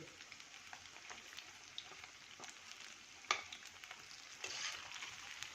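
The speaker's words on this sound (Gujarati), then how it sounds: "ધીમો ગેસ હશે તો આપણા ગોટા પાણીમાં વિખરાઈ જાય છે, એટલે આપણે ફાસ્ટ ગેસે જ તળવાના છે." Quiet, continuous sizzling of wheat flour and raw potato fritters deep frying in oil over high flame, with light crackles and an occasional soft clink.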